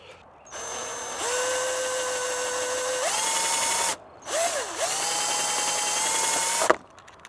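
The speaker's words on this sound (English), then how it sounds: "now I'm gonna mount this up at the top with 2 screws" A cordless drill driving screws to mount a bird feeder bracket at the top of a pole, with two long whirring runs that rise in pitch as they speed up, a brief break between them, close and loud.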